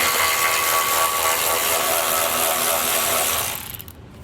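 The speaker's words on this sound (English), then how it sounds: "we're just going to go ahead and remove these 2 10mm nuts in the middle here" A ratchet removes two 10mm nuts from the bumper of a 2014 Volkswagen Jetta during a tow base plate installation, giving a steady close mechanical whirring that runs for about three and a half seconds and then fades out.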